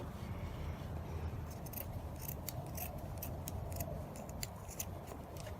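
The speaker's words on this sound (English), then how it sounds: "I'm going to cut with the big scissors here this time" Large scissors snip repeatedly through fabric in a steady series of crisp cuts over a low background hum.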